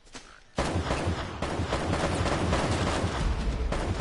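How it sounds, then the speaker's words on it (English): Shotgun blasts and heavy gunfire in the video game Uncharted Remastered, a dense, loud rumbling barrage that kicks in after a brief quieter moment and continues steadily. "Nah, it's a shotgun."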